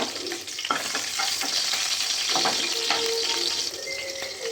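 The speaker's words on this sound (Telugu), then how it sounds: "ఒక 4 పచ్చిమిర్చి వేసి ఫ్రై చేసుకోండి" Oil sizzles and crackles steadily as green chilies, bay leaf and cinnamon fry in a pan, with occasional scraping and stirring clinks over the hiss.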